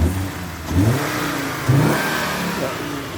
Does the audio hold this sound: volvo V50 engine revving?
yes